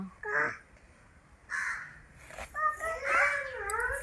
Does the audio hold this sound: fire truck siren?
no